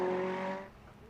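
TR3 Racing Ferrari GT race car in a GT World Challenge America race at Virginia, roaring loud and close as it sweeps past, its engine note fading quickly into the distance.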